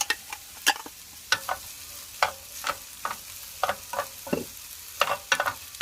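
Onions, bacon and mushrooms frying in a pan, with soft sizzling broken by repeated clattering stirs and scrapes at an irregular pace, close and moderately loud with no talk.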